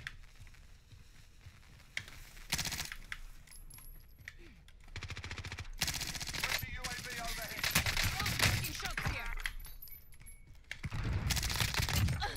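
Gunfire in Call of Duty: Warzone comes in intermittent bursts of rapid shots of varying loudness, mixed with game effects, while players talk excitedly over the action.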